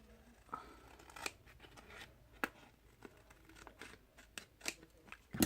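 Scissors snip away excess ribbon in a series of quiet, crisp clips, close by, with faint paper rustling between the cuts.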